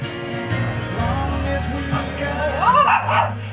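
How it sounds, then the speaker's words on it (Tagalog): Barks and yips from Milo, a playful pet dog, at a San Juan festival in the Philippines, rising over steady background voices and low rumble, with a few sharper calls near the end. "Itong makulit namin aso to"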